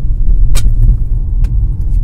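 A first-generation Tata Safari driving on a highway, heard from inside as a loud, steady low road rumble with two brief sharp hissing bursts standing out along the way.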